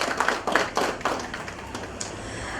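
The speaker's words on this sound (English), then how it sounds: "Ladies and gentlemen, another round of applause." Audience applause at a chamber of commerce event at a trade fair, a few close claps at first, then thinning into a softer, scattered patter.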